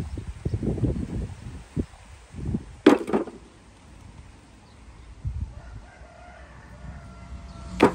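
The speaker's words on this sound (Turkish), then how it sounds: "Horoz bu oraya bak ötüyor artık horoz." A rooster crows at a rural home in Zonguldak, a sharp call rising out of quiet outdoor background, with scattered clucks and knocks around it and a second brief call at the very end.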